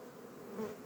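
Faint, steady buzzing of honey bees at a hive's landing board, heard briefly and close.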